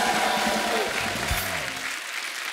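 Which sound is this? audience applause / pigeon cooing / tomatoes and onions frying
audience applause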